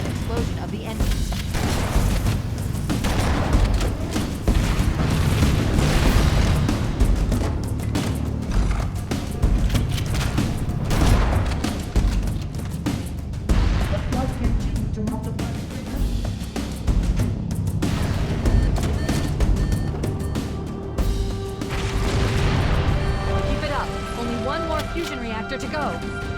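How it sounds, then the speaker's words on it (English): Fusion reactor explosions aboard a starship in the video game Halo: Combat Evolved Anniversary, heavy booming blasts and rumbling mechanical noise running continuously and loudly throughout, with speech over the top. "Use explosives on the other 3 reactors. That should be enough to trigger a wildcat explosion of the engines."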